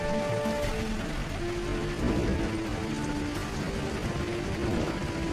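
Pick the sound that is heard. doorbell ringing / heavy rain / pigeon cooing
heavy rain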